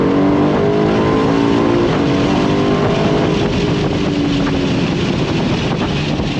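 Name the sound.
Aston Martin DB12 Volante engine revving on throttle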